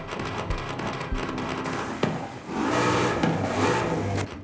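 A V8 car engine in Forza Horizon 5 revs and drones, with a short rising pulse early on, a sharp blip around the middle, then a louder sustained run at steady revs.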